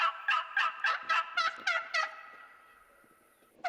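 A wild turkey gobbler gobbles in the woods, a rapid run of about seven loud, rattling notes trailing off, then a fresh gobble starting at the very end, fairly close and alone.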